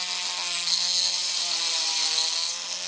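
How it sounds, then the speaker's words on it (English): Small rotary tool grinding away the edges of a rivet post on a Londoner model bus, a steady high-pitched whine with a gritty grinding edge, close and continuous, easing slightly at the end. "I've got not a lot of room to get this little rotary tool in here"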